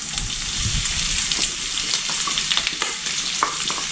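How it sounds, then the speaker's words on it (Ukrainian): Sliced onion fries in rendered salted bacon fat in a pan, with a close, continuous sizzle, crackling pops and occasional stirring scrapes. "Та будемо підсмажувати до золотавого кольору."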